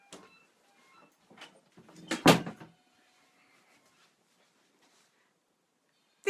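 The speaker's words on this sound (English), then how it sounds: "Just close the door." An indoor door is pushed shut, a single sharp thud with a brief rattle before things go quiet, set among soft room noises.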